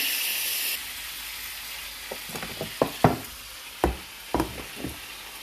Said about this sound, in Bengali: আদা রসুনটা কিন্তু কষানো হয়ে আসছে